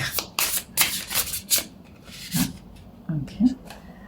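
A deck of playing cards is shuffled by hand in quick riffling bursts, close and crisp, while a person speaks intermittently over the shuffling.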